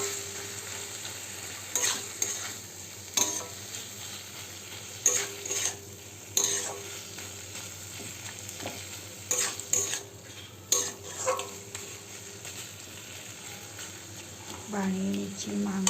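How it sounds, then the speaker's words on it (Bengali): Minced meat stirring and frying in a pan gives a steady close sizzle broken by repeated sharp scrapes and clinks of a utensil against the metal, irregularly spaced throughout. "বানিয়ে নিচ্ছি মাংসের কিমা"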